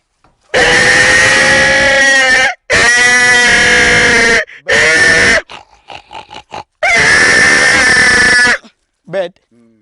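A man imitates a pig with his voice, making four long, loud, harsh grunting squeals with short gaps between them, followed by a few softer snorts and a brief final squeal.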